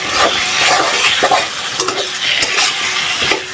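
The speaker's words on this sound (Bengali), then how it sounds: "আর মূলা দিয়ে ভালোভাবে কষায় নিই" Fish and radish stir-fried with spices in a pan, loud continuous sizzling with a spatula stirring and scraping, close up and without speech.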